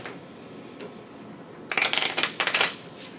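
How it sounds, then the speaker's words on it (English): Playing cards being shuffled during a four-player Exploding Kittens game, with two quick riffling bursts of close crisp flutter, the second shorter, following a quiet stretch. "They don't shuffle very cleanly."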